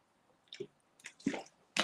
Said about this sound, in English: Let me give a quick drink.